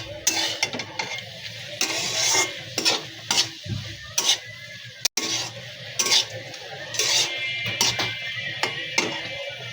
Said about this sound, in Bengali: এখন তুলে আর একটু নাড়াচাড়া করে নেব